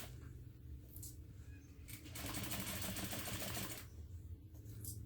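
A squeaky sewing machine running close up, a steady mechanical whir with high chirping squeaks that rise into a dense rattling burst in the middle, then settle back to the squeaking.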